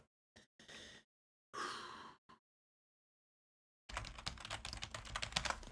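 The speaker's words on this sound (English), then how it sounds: "And I'm nervous typing this right now." Rapid typing on a computer keyboard, heard as two short bursts of clacking keys with pauses and then a longer, dense run of keystrokes, close and fairly loud, with no talking.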